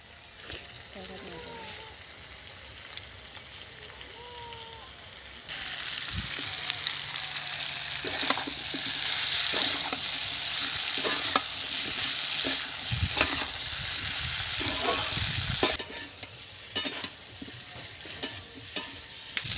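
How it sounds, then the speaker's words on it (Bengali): Potatoes and kohlrabi frying in oil in a pan, a quiet start giving way to a loud continuous sizzle with sharp clatters of stirring and scraping throughout, and some voices in the background. "আপনারা নিশ্চয়ই দেখতে পাচ্ছেন আলু কত সুন্দর করে ভেজে নিয়েছি, আলু ওলকপি"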